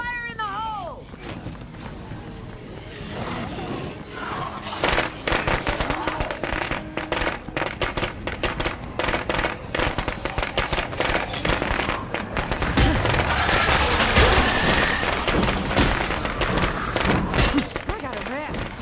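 Thrown explosive going off in State of Decay 2, a dense crackling barrage of blasts and shattering bursts that runs on for many seconds, loud and close, with a voice talking over the start.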